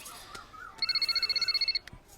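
A telephone ringing, giving one burst of rapid electronic trill pulses lasting about a second, fairly close and alone over a quiet background.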